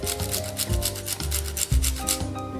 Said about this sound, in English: I'm gonna take some cheese and grate it on there because it's pretty great